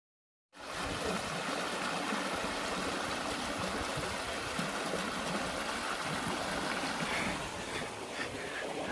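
Colorado River between Moab and Arches National Park rushing steadily, a broad continuous roar of flowing water that starts abruptly and holds loud and even throughout.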